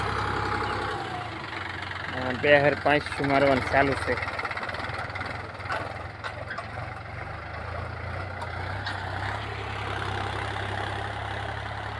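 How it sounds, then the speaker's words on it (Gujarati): Tractor engine idling on a farm, a low steady rumble that runs throughout beneath someone talking close by. "જો ટ્રેક્ટર"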